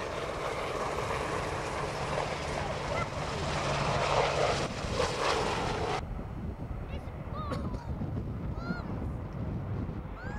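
Military helicopters lift off and leave the landing site during a commando assault display at the Yeovilton Air Day. A loud, steady rotor and engine roar fills the first six seconds, then drops away to a quieter background.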